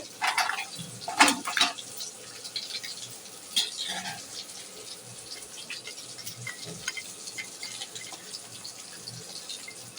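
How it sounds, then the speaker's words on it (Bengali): Broth water poured into a simmering home-cooked curry with fried lentil crumbs, a splashing trickle that bursts loudly early on, then settles into a steady faint watery running with small drips. "ঝোলের পানি দিয়ে দিচ্ছি।"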